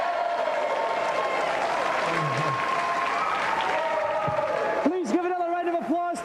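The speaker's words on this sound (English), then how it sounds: "Please give another round of applause" A television game-show studio audience applauds a winner, a steady crowd clapping held under an announcer's voice, with a burst of musical jingle tones toward the end.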